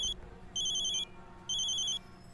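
A telephone rings in a household scene: three bright electronic ringtone bursts in a steady, evenly spaced pattern, fairly faint, over a low background hum with no talking.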